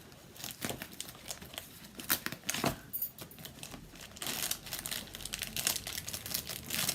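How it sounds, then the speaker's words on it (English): Red craft tape being handled, crinkling and tearing in quick, irregular bursts, close and fairly quiet, with no talk. "I'll have to put red tape on there."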